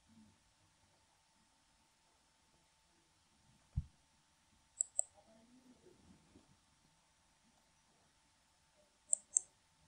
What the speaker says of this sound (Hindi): इस पर डबल क्लिक करके ओपन कर दे।